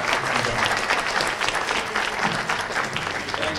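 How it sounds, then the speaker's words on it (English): A conference audience in Chicago claps for a panel on Israel's regional security, dense and loud sustained applause filling the room for the whole stretch with no one speaking. "Please give the panel a round of applause for that excellent presentation."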